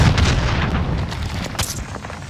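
Gunfire and booming explosions in Call of Duty Warzone, a dense, loud, rumbling barrage with sharp cracks running continuously through the moment.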